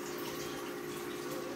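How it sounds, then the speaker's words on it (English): Water runs steadily from a tap while something is rinsed, a continuous moderate splashing hiss with no pauses and no talk. "Alright, so we gave it a good rinse."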